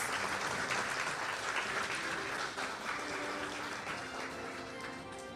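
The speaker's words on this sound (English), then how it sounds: "Let us give the gentleman here a round of applause." Audience applause at a ceremony for the signing of railway construction contracts, a steady, fairly distant wash of many people clapping that holds its level and then eases slightly toward the end.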